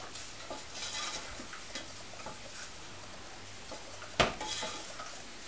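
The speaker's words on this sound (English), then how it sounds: "we are going to stir vigorously" A spoon stirring oats into melted chocolate in a pan, giving soft repeated scraping and sticky scuffing strokes near and fairly quiet, with one sharp clink of the spoon against the pan near the end.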